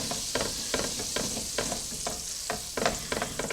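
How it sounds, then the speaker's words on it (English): Butter and olive oil sizzle steadily in a hot pan, with a continuous close frying hiss and faint rhythmic scraping, as for a chicken stroganoff. "if you can hear that sizzle going on in there"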